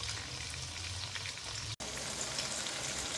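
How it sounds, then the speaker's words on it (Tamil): Small onions and garlic sauté in a pan with a continuous, moderate sizzle and light crackle, briefly interrupted by a short gap midway before carrying on evenly. "இப்போ இந்த அளவுக்கு வெங்காயம் வதங்கணும்"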